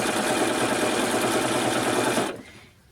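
A sewing machine stitches through layer cake quilt fabric, a steady close whirring run of rapid needle strokes that carries on loudly, then stops abruptly near the end, leaving a quiet room.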